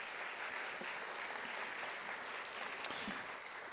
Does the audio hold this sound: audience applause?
yes